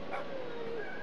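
Minecraft dogs from an army of tamed wolves give a short whimpering, whining yelp with a faint bark-like edge, a single brief game sound over steady background noise.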